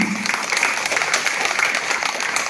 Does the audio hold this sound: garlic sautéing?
no